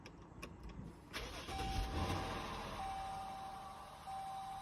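A Ford E450 4x4 van engine cranks and catches after about a second, then settles into a steady, fairly loud idle with a constant whine over the rumble.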